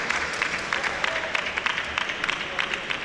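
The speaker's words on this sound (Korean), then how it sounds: "네, 박수가 나오죠." Indoor audience applause rises after a rally in a women's team table tennis match, a steady patter of moderate clapping from a crowd in the hall, with a commentator's voice faintly underneath.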